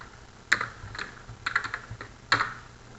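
Computer keyboard keys pressed in short bursts of quick clicks for shortcut commands, a few separate clusters of taps close by in a quiet room.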